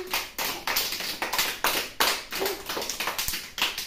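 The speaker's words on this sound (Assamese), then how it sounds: "সকলে তালি দিয়াচোন" Children in an Anganwadi classroom clap their hands in about a dozen quick, uneven bursts of slaps over four seconds, fairly close and with no talking.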